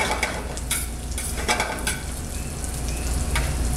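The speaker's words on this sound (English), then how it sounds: "So keep shaking these pine nuts." Pine nuts toasting in a hot pan sizzle steadily while the pan is shaken, giving bursts of rattling and scraping close up, with no speech.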